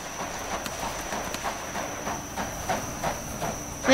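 A horse gallops in a Wild West video game with steady rhythmic hoofbeats, moderately loud, running continuously under a constant background tone and ending in a sudden louder sound.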